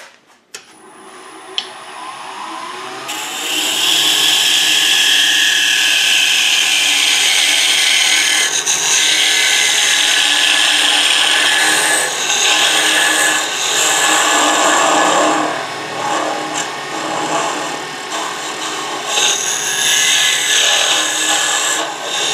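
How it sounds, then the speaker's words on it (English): A parting tool cuts across the spinning end of a wooden mortar blank on a lathe, a loud steady scraping whir that runs almost unbroken for about twenty seconds after a brief quiet start, with no talking. "we'll take our parting tool and we'll square that up"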